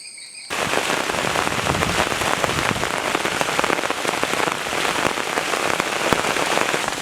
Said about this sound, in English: It seems like rain caught me completely off guard one more time. I was just cycling into the night, and 20 minutes later it's a rainstorm.